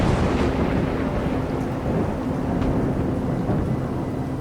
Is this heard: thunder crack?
yes